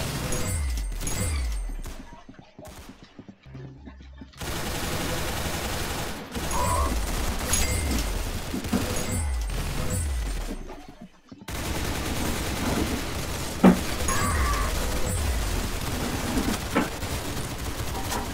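Rapid bursts of automatic gunfire in the Roblox shooter Arsenal, loud and close, with repeated volleys broken by short lulls and clattering game effects.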